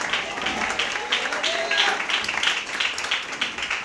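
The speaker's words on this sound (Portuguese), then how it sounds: "louve a Deus com palmas bem forte e bem alegre" Church congregation clapping with energy, a continuous ripple of many hands at moderate level, with some murmured voices mixed beneath the applause.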